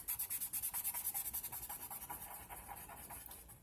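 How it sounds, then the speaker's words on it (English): Rapid rhythmic rubbing and scrubbing as a cotton swab blends colour across a glass window, a steady back-and-forth scratching that starts strong and gradually softens and smooths out, close and alone. "I think I'll start with over here and just rub it all together."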